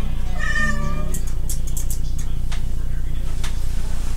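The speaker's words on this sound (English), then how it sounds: "Look at Kitty" A domestic cat meows loudly and close by in one drawn-out, wavering call, followed by a few sharp clicks and taps against a steady low hum.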